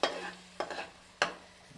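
Ginger fries in a pan for a fish curry, with three sharp bursts of sizzling and stirring, each fading into a softer, steady crackle.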